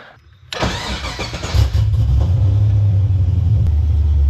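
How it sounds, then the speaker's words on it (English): Car with an LS engine swap cranking and firing up after a quiet moment, then settling into a loud, steady, close rumbling idle with no talk over it. "So we're gonna turn the car on."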